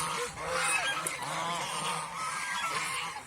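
Several ducks honking and quacking close by on a duck farm, overlapping calls in a continuous noisy chorus.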